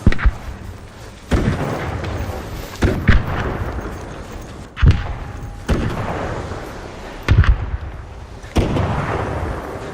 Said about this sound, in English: That's the bombardier firing off its mortar.